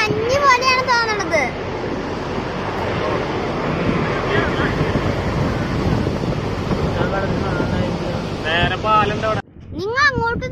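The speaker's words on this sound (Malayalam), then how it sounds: "നമ്മുടെ ഡാമിൽ വെള്ളം അങ്ങനെ തുറന്നു വിട്ടോണ്ടിരിക്കുകയാണ്. വെള്ളമൊക്കെ നോക്കി, വെള്ളം അടിക്കുന്ന സൗണ്ട് ഭയങ്കരമായിട്ട് നേരത്തെ കേൾക്കണില്ലേ." Water released through the opened gates of Chimmini dam makes a continuous roaring rush, heavily buffeted by wind on the microphone, with a voice speaking briefly at the start and again at the end.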